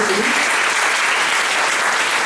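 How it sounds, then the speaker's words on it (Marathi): An audience at a college degree distribution ceremony applauds: dense, steady clapping from a large crowd, loud and continuous throughout with no pauses. "एकदा कॉलेजसाठी आणि स्वतःसाठी टाळ्या वाजवा"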